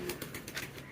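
Bombay pigeons coo softly at a pigeon farm, a low continuous murmur of several birds with faint overlapping calls, fairly quiet and steady throughout the short moment.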